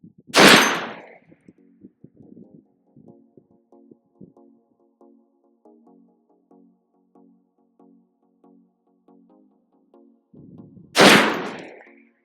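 Two loud shots from a Barrett M107A1 .50 caliber rifle fired at a target one mile away, each a sharp boom with a rolling echo, separated by about ten seconds of faint low rhythmic background noise.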